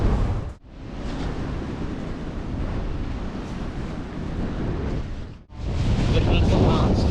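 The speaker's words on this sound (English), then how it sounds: "Watch the waves." Steady roar of ocean waves breaking on a Welsh beach, buffeted by gusty wind on the microphone, loud and continuous with two brief dropouts.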